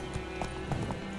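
Horse in The Witcher 3: Wild Hunt, a few soft hoof clops and a faint snort over a steady background hum in a short moment.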